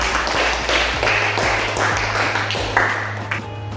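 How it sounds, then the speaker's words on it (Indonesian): A group of pupils claps together in a classroom during a religious studies lesson, a steady patter of hand claps over a low constant hum, lasting a few seconds. "Tepuk tangan untuk kelompok."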